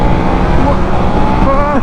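Two sport motorcycles, a KTM 1390 Super Duke R and a BMW M 1000 R, accelerating hard up a road slip road, engines rising in pitch as they gain speed, loud and close with steady wind roar throughout.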